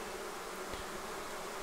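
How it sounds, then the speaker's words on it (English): Honey bees from a swarm buzz in flight as they forage around the area, a faint, steady hum with no talking. "bees that are flying around foraging in this area"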